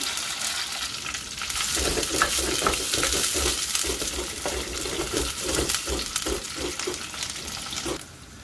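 Onions and curry leaves fry in hot oil, producing a loud continuous sizzle close by. Stirring clatters in the pan come in a loose rhythm, and the sizzle drops off near the end.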